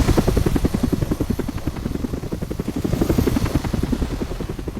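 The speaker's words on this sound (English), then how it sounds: "And helicopters?" Helicopters in the video game Not For Broadcast, a loud, steady rhythmic rotor thump sounding close and alone throughout.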